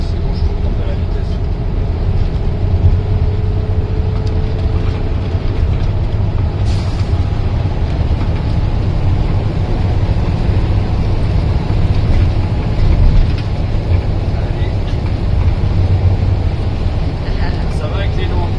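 A converted camper bus drives along a road and picks up speed, its engine rumbling loud and steady throughout with road noise, while people talk over it.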